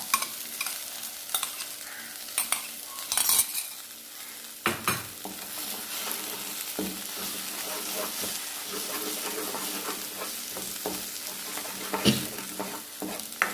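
Egg poured into a pan with a little oil and stir-fried for a Kerala-style protein thoran, giving a steady close sizzle with scraping spatula strokes and a few sharper clatters.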